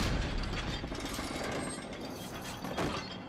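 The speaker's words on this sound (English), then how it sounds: "Step two. Raise the chandelier." Chandelier hoisted by creaking pulleys and a ratcheting mechanism in the video game Uncharted 4, a steady mechanical grinding and clicking that holds loud and even throughout, with no voices.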